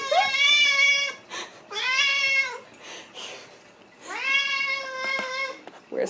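Poki the cat gives three long, insistent meows while waiting for food, loud and close, with short pauses and faint household sounds between calls.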